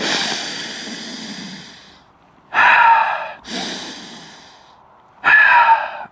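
Two sharp, close nasal inhales, each following a long, breathy exhale, in a slow repeating pattern.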